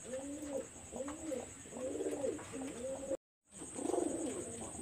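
Pakistani high-flyer pigeons from Khulna coo in repeated rounded phrases at a low level, indoors, with a steady high-pitched electrical hum behind them and a brief dropout partway through.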